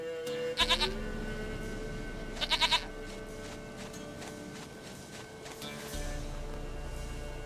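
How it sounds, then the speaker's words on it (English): A goat in The Witcher 3 gives two short bleats, each a quick wavering burst of three or four pulses a couple of seconds apart, over a steady ambient game soundscape with no talking. "Goat of mine, dearest,"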